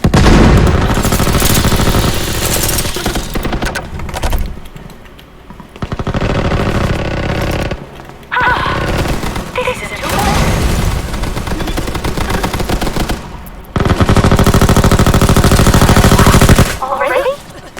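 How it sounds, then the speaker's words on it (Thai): Sustained automatic gunfire and explosions in the shooter game Veiled Experts, played in a juggernaut suit, sounding as loud, dense bursts that cut out briefly several times, with scattered game voice lines mixed in. "มันยิงกันอยู่ตรงไหนวะน่ะ"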